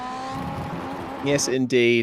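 Race car engine in the iRacing game at the Chicago Street Circuit, heard from a helmet cam, revving hard in sharp rising bursts near the end after a steadier drone, with someone talking briefly over it.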